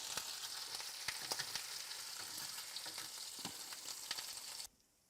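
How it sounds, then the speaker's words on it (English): Meatballs are put into simmering marinara sauce over a steady background sizzle and bubbling, with scattered clicks and soft plops, until the sound cuts off abruptly near the end. "I'm putting the meatballs into the your favorite marinara sauce"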